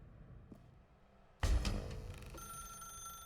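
A telephone rings in the video game The Stanley Parable Ultra Deluxe, a sudden loud burst of bright ringing that then sustains as a tonal ring over a low room hum.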